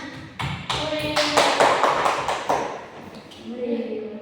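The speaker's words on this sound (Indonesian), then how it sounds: "Tepuk tangan." Scattered hand claps from a small classroom audience at the close of an Islamic studies talk, a run of sharp taps swelling and thinning over a few seconds, with voices speaking over the end.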